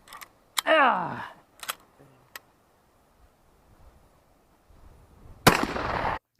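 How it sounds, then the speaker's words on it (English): Metallic clacks and a sliding rattle from working the lever action of a Cimarron 1887 Winchester-style shotgun, sharp and close, with a brief exclamation and a longer grinding burst near the end. "Here you can see I levered it to what felt like the wall"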